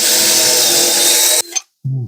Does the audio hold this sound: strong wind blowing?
no